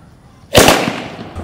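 A two-sound sky shot firework bursts with one loud, sharp bang followed by a rough, fading crackle during Diwali fireworks testing.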